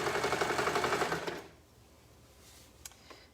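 A sewing machine stitches down a t-shirt sleeve in a steady, close, rapid run for about a second and a half, then stops, leaving quiet room tone and a couple of faint clicks.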